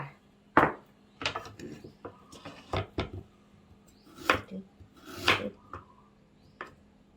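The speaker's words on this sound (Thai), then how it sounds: "เราหั่นขิงที่เราค้างเอาไว้เป็นเต๋าๆเหมือนกันค่ะ" Knife dicing ginger into small cubes on a cutting board, a dozen or so irregular sharp chops with short pauses between them, close and fairly quiet.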